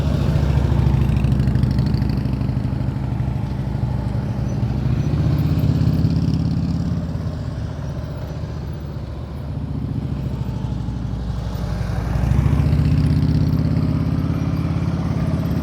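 A motorcycle engine idles and putters during slow-speed riding practice, a steady low drone that fades and swells as the bike moves away and returns.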